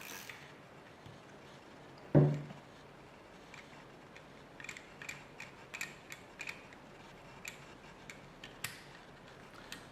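A 14mm socket unscrews the valve seat screw cap on a Milsig regulator, giving one sharp knock followed by a run of faint, close ratcheting clicks and small metallic ticks.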